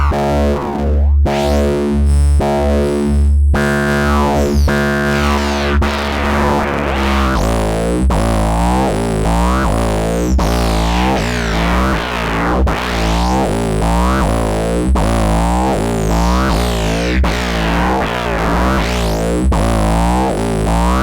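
Sputnik Modular West Coast modular synthesizer playing loud, continuous tones swept by modulation, with rapidly repeating rhythmic pulses, shifting harmonics and gliding high chirps, alone with no talk.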